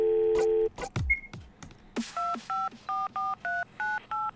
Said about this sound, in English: A phone call to make? Yes.